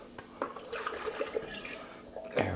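Yeast poured into apple cider being prepared for hard cider fermentation, giving soft close liquid splashing and trickling with small drips over about two seconds, ending in a brief louder splash.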